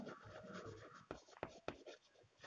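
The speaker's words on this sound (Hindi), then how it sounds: "लेकिन फिर भी अपन बोर्ड पर लिखेंगे" Chalk or marker scratches across a classroom board in short strokes with a few sharper taps, faint and close, with some soft speech mixed in.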